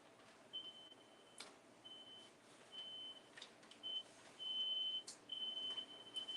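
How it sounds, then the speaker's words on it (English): A household smoke alarm, set off by salmon cooking in the oven, sounds in repeated short high beeps with uneven gaps over faint room noise and occasional knocks. "My daughter is cooking salmon, and she set off the smoke alarm from the oven."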